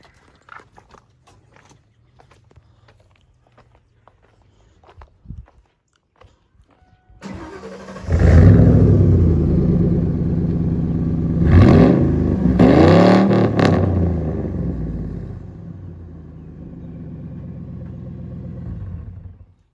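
A 1997 Ford F-150 pickup, set up for off-road use, cranks and catches at about seven seconds, then runs with a loud, close engine rumble and a couple of revving surges before settling into a steady idle.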